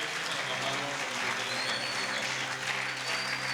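A church congregation applauds and cheers for the Lord in a steady, dense wash of clapping that holds evenly throughout, with faint voices mixed into the crowd noise.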